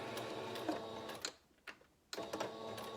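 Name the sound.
sewing machine stitching face mask pieces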